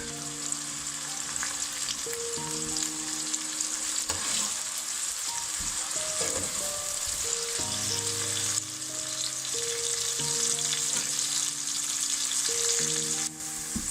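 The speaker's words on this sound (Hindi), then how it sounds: "इसकी आंच हम थोड़ी सी तेज़ करेंगे और इसको फ्राई करेंगे प्याज को।" Steady sizzling of onions frying in a pan over raised heat, continuous and close, with occasional stirring scrapes and a faint tonal hum underneath.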